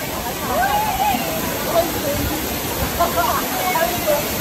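A waterfall at Juinagar rushes steadily with forceful water, a constant broad roar, while faint voices are heard now and then beneath it.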